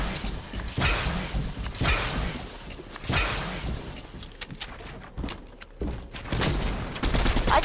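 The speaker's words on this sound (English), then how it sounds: "I had an auto shotgun." An auto shotgun fires repeatedly in the video game Fortnite, a string of loud, close, sharp blasts at an irregular rapid rhythm, with other game noise between shots.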